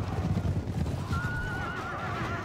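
A horse whinnies with a wavering, high-pitched neigh over the clatter of hooves, close by and loud, in the game Westeros Total War.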